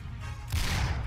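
A single sniper rifle shot in Uncharted 3: Drake's Deception, a short loud crack with a rumbling tail over a low game-ambience bed, heard alone.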